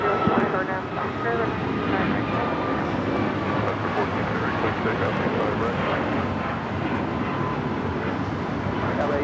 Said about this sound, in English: We have the Qantas A380 on the downwind.